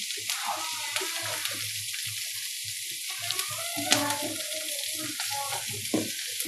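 Onion, green chilli and vegetables stir-frying for veg chowmein, a bright continuous sizzle with irregular tossing and scraping in the pan, close and steady throughout.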